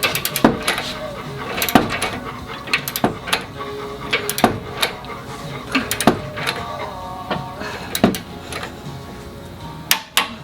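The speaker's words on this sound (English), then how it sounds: "We are torquing this to 69 foot-pounds." A torque wrench on a front swaybar bolt gives a series of sharp metallic clicks at irregular intervals, close and crisp against a quiet workshop background, with no talk.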